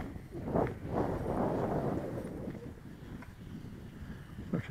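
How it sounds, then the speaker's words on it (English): Steady, fairly constant wind blowing across an open field outdoors, a continuous low rushing with faint buffeting, no talk. "So the wind's quite constant today"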